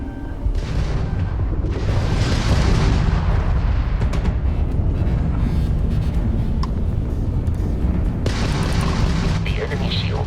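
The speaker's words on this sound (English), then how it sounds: "If you can keep the enemy ship centered on the HUD, we can lock in to fire a homing missile." A homing missile launch and explosions roar through a space combat video game, a dense continuous rumble of booms and blasts with rising bursts, loud and close throughout.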